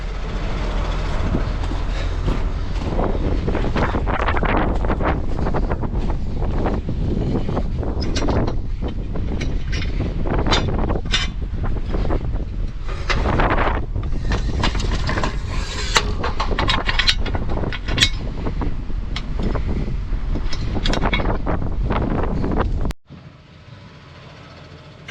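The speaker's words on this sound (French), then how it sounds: "il y a du vent oui aujourd'hui" Strong wind buffets the microphone across an open farm field during pea sowing, a loud continuous roar with gusty bursts that cuts off abruptly near the end, leaving faint quieter background.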